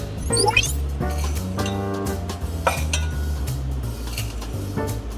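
Thirty-five grams of oats tipped into a jar, heard as a few quick clinks and a soft rattle up close over quiet background music.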